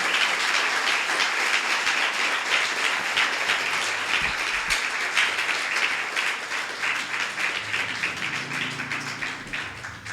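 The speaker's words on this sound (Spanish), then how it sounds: "denle un aplauso al Señor" A large church congregation claps continuously for about ten seconds, a dense, even roar of applause that fades slightly toward the end.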